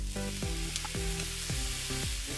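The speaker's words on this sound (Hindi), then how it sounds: "जो हमारी वेजिटेबल वगैरह थी वो हल्की सी फ्राई करना है" Vegetables with soy sauce lightly frying in a pan, giving a dense continuous sizzle with a few rhythmic scraping strokes of a spatula, close up and without voices.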